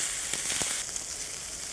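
A kitchen torch sears pan-grilled Vietnamese-style charcoal pork set in a metal tray, giving a steady close hiss with a few short crackling pops early on and no talk.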